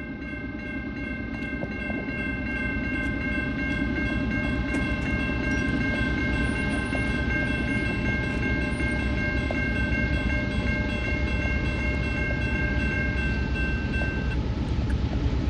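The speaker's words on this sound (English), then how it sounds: "Another manifest train, it looks like, unless it's gonna be intermodal." A CSX freight train of 125 cars, led by a CM44AH locomotive with no distributed power, rumbles past at close range, with a long, sustained horn blast ringing over the rolling clatter of the cars.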